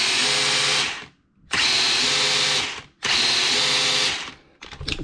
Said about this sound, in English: This is the turbo delay. You'll hear it go to full throttle, then pick up.